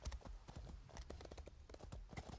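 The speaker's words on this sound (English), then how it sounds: "I'm just going to proceed to run away on my horse because I'm faster than them" A horse running in the video game Elder Scrolls Online: a rapid, continuous clip-clop of hooves, fairly close, with a faint voice briefly mixed in.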